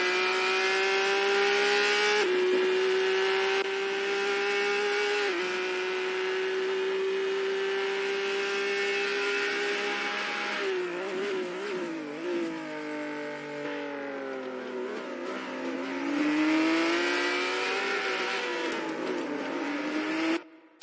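Mustang race car engine in a virtual racing game at NZ SuperLap, a loud sustained drone that holds steady pitch, dips with gear changes, wavers through corners and climbs again near the end.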